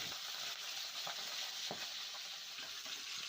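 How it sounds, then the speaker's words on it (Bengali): Rui fish heads fry in hot oil and are turned over now and then. The frying gives a faint, continuous sizzle broken by soft scraping stirs and small clinks, with no talk. "মাছের মাথাগুলো উল্টে পাল্টে ভালো করে লাল লাল করে ভেজে নিতে হবে"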